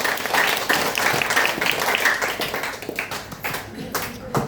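An audience at a product-sharing event claps loudly for a product, a dense burst of applause that holds for a few seconds and then thins into scattered claps.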